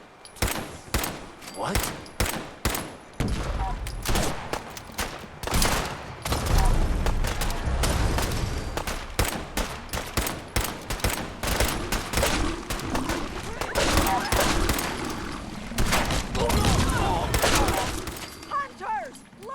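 Heavy gunfire in Fallout 4 combat against gulpers, rapid bursts of shots and automatic fire in dense clusters with short gaps, loud and close, with brief shouted voices mixed in.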